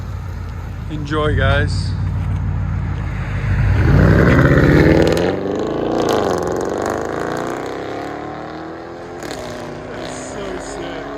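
A straight-piped Audi S7 with quad exhaust tips revs up into a loud, raspy roar that swells and then settles into a lower rumbling idle, with someone briefly speaking near the start.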